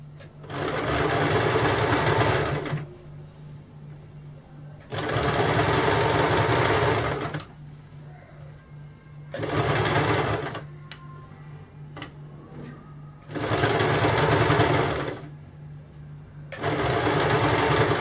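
A sewing machine stitches along the edge of a kameez in five steady bursts, each about two seconds long, separated by short pauses. The bursts are close and loud, with a fast mechanical rattle.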